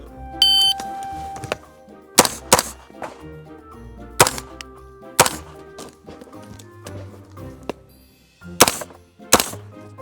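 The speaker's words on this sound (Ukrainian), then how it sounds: "За сигналом таймера я буду вражати три мішені." Sharp gunshots from a 9mm Inter Ordnance carbine ring out at targets in spaced single and paired bursts, loud and close, with faint timer beeps and clicks in between.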